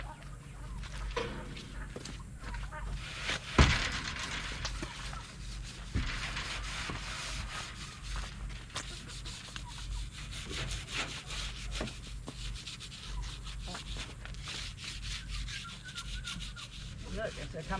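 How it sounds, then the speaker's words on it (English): Scrubbing a surface by hand with Dawn dish soap, outdoors with chickens nearby: steady rough rubbing strokes, close and continuous, with a few sharp knocks along the way and no talking. "we're gonna scrub this up"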